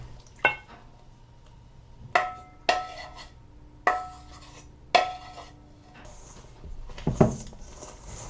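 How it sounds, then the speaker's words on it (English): Milk mixture is stirred into flour for peppermint scones, heard as a few separate clinks and knocks of a utensil against a bowl with quiet scraping between them, close up and without speech. "And just mix it until it's well blended."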